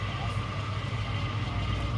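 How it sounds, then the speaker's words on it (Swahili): An electric fast-boil kettle, just filled with water, has its element starting to rumble: a steady, low, continuous rumble with a faint hiss above it, unbroken for the whole moment. "Sikiliza chuma kinaanza kunguruma."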